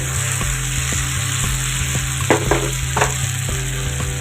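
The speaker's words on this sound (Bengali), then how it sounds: "আলুটাকে ভালো করে কষিয়ে নিচ্ছি" Potatoes sautéed in a pan, giving a steady, loud frying hiss under regular, evenly spaced stirring scrapes and a couple of sharper clatters, close by with no speech.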